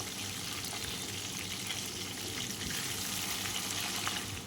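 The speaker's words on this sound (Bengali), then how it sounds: "মাছগুলো হালকা ভাজা হয়ে আসলে মাছগুলোকে আমি উল্টে নেব" Rohu fish pieces frying in hot oil in a wok give a steady, close, loud sizzle that fills the whole stretch, with faint scrapes as the pieces are turned; no one speaks.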